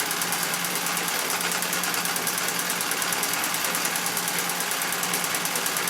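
A red-eye Singer 66 treadle sewing machine stitches during free-motion quilting. It makes a fast, even, mechanical clatter that runs steadily throughout with no pauses and no voices.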